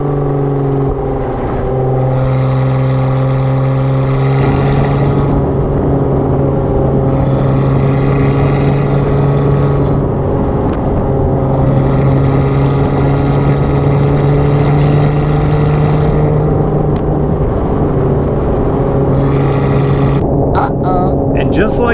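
A loud, droning Lotus sports car exhaust with a third catalytic converter deleted roars continuously at high speed on a mountain road near Fontana Dam, its pitch shifting slightly as it accelerates, with wind rush throughout.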